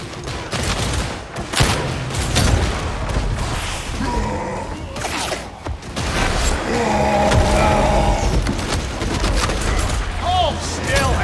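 Mk II Helbore lasgun fire from the Veteran class in the video game Darktide, with sharp repeated shots and booms over a dense battle mix, and voices talking throughout.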